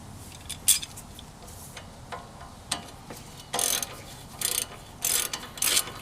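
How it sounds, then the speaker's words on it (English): Ratchet clicks in quick bursts while turning a nut on a Toyota hub during a manual hub conversion, the bursts fairly close and separated by short pauses, with no talk. "You could transition to a ratchet now."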